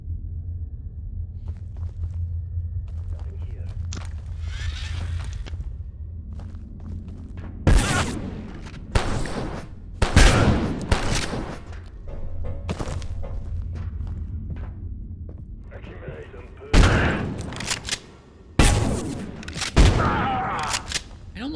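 Shotgun blasts in the video game Abiotic Factor: several loud, booming shots come in quick pairs and singles over a low rumbling background, with some footsteps between them.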